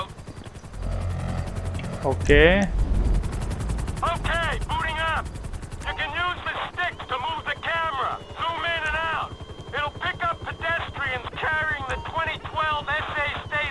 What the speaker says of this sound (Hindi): ये हेलीकॉप्टर चुराया है।